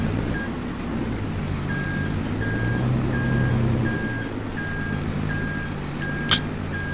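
A truck backs up in Farming Simulator 22, its reversing alarm beeping in a steady, evenly spaced series over a low idling engine rumble.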